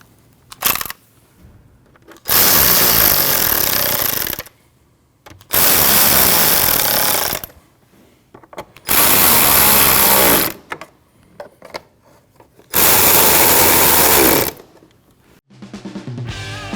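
A power tool tightens bolts on the air box of a 2013-2019 Ford Escape 1.5L four-cylinder, in four loud, close, buzzing bursts of about two seconds each, separated by short quiet gaps.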